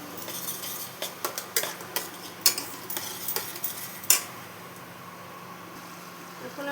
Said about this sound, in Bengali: এটা ভালো মতো মিলিয়ে নেব।